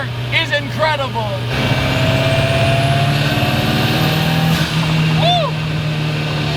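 A 400HP Toyota Starlet sleeper tuned to rev to 9000RPM pulls hard through third and fourth gear, its engine note climbing steadily with a brief gear-change dip, loud and close inside the cabin, with excited voices at the start and end.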